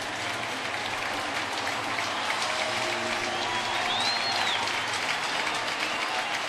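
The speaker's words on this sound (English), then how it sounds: "Citi Field crowd appreciative of Livan's effort" A baseball crowd at Citi Field applauds steadily as pitcher Livan Hernandez leaves the game during the 2009 Marlins–Mets matchup: a dense, continuous wash of clapping and crowd noise throughout.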